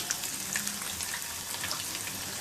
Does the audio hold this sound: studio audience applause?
no